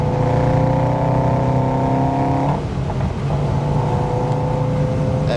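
Subaru WRX STI exhaust heard from inside while driving with the sunroof open: a steady, loud engine drone with a brief dip and break midway, like a gear change, before the tone settles again.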